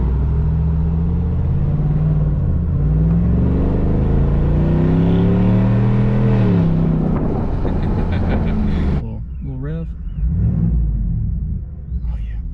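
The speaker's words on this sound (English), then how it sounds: "When your exhaust is pointed straight out the back, it can definitely fool you on how loud it actually is" A Chevrolet Trail Boss pickup with a quad tip exhaust revs and drives off, its deep engine rumble rising and falling through several throttle swells before pulling away, loud and close with wind buffeting the microphone.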